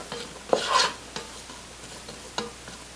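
Onions seasoned with salt and black pepper are stirred in a pan, giving a few scraping sweeps with a soft sizzle underneath, one louder swirl early on followed by lighter, occasional strokes.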